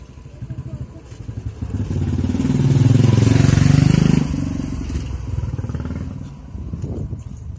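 A motorcycle engine close by rises to a loud, steady drone, eases off and carries on rumbling, while people talk over it throughout.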